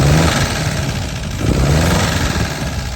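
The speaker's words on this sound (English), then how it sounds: "As you can hear, it runs and idles really nicely." A 1952 MG TD engine idles steadily at close range, a low, even mechanical throb with a slight lift in level midway and no voices.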